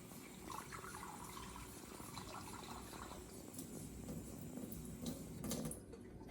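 Warm water runs from a sink tap into an enema bag, a quiet steady stream of filling that grows slightly fuller and louder near the end.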